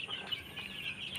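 Sick chickens with a respiratory illness cluck in a coop, a faint, brief, close chorus of fowl calls over a low background hum.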